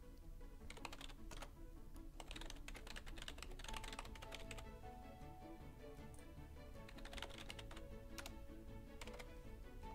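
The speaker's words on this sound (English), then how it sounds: "go ahead and input the full email address and the password that you just created" Rapid, fairly quiet clicks of someone typing on a computer keyboard, with irregular bursts and short pauses as an email address and password are entered.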